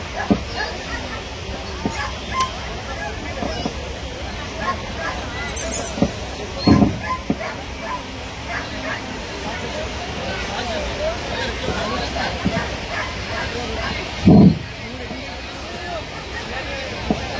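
Dogs bark in short scattered bursts at an outdoor Dasara dog show at Muruga Math in Chitradurga, Karnataka, a couple of sharp yelps standing out over constant crowd chatter and announcer talk.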